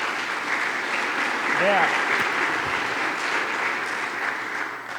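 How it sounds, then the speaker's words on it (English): An audience at a Glen Lake Association annual meeting applauds in a room, the clapping steady and fairly loud throughout, with a brief voice and a few cheers rising over it. "Let's give her a big round of applause"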